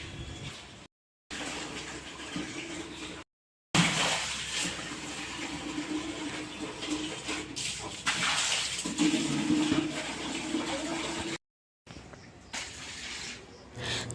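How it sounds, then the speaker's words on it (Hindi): Water splashing and pouring across an outdoor floor strewn with fallen guava leaves, a steady rushing wash with brief pauses, fairly close and alone. "तो पानी ही डाल देते हैं, पानी डाल देते हैं, साफ़ हो जाता है"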